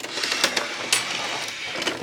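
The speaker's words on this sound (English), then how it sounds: "Let's bring our sewing machine over." A sewing machine stitches velvet ribbon tags in a steady, fast mechanical whir with rhythmic needle clatter, close and continuous throughout, with no one speaking.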